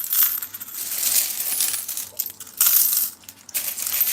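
Coins pour and clatter continuously from an emptied piggy bank, a dense metallic jingling with brief pauses and a louder surge near the end, with no talk over it.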